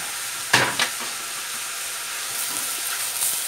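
Vegetable soup with onions gets stirred in a pot over a constant sizzling hiss, with a couple of sharp scrapes early on and softer movement after.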